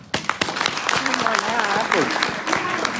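A seminar audience breaks into scattered applause, a dense patter of hands that runs the length of the moment while a voice talks over it.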